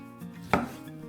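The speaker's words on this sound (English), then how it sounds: "Start by cutting 300 grams of beef into slices" A single firm knife stroke slices through beef on a cutting board, one clear chop close up against a low background hum.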